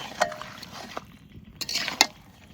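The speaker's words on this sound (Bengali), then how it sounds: "সুন্দরভাবে মাংসটা কষিয়ে নেব। খাসির মাংস কষাতে একটু সময় লাগে।" Mutton browning slowly over a low flame in a pan for a village-style home curry, with metal spatula scrapes and sharp clinks against the pan over a faint, low sizzle, heard up close with no talking.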